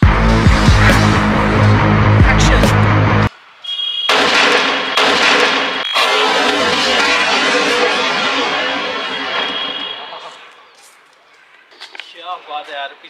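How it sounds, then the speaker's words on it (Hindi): A foil firecracker bomb blasts inside a water tank, a loud heavy boom that cuts off abruptly, followed by a few sharp cracks and a long rumbling, rattling decay; voices are heard afterward. "ये था हमारा फॉइल बम नॉर्मल, धुआंधार परफॉर्मेंस फिर से"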